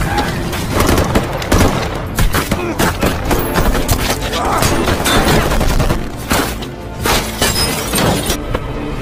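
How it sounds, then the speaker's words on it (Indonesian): A SWAT team's gunfire volley in an action film: dense, loud bursts of rapid shots crackle and boom almost without pause, with shattering impacts mixed in and a narrator speaking over them. "pasukan tim SWAT langsung melepaskan tembakan secara serentak"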